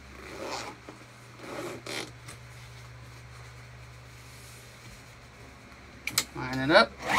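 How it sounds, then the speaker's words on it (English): Zipper on a crossbody bag being slid along during sewing, a few short rasping pulls near the start and a louder burst near the end, over a low machine hum. "I'm going to move that zipper back down the other side."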